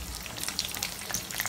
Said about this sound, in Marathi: ते तेल चांगलं गरम झाल्यानंतर त्याच्यामध्ये मी ही राई टाकणार आहे